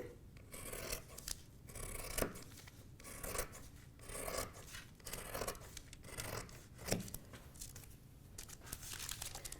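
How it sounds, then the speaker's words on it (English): Scissors cut along the hem of a fabric sewing pattern, a steady series of close, raspy snips and paper-like rustles with brief louder crunches, no voices. "And now we can cut our hem."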